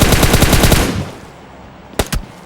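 Rapid automatic gunfire in the mobile game PUBG Mobile, a loud close burst of about a dozen shots, followed after a pause by two quick sharp reports, with no talk.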